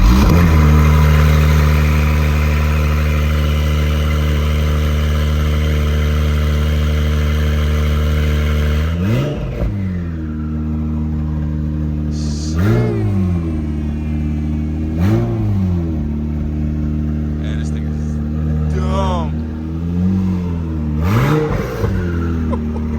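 An Acura NSX Type S engine fires up from cold and settles into a loud, high idle, followed by several sharp revs that swell and drop back, heard close and alone.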